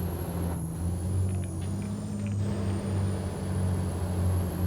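Heavily loaded Kenworth W990 logging truck in American Truck Simulator labouring uphill, a loud, steady low diesel drone holding throughout with a brief hiss-like burst midway, no talk.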